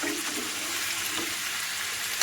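Chicken curry meat frying and simmering in oil in a pan, a steady close hiss of sizzling with faint scraping stirs, no voices.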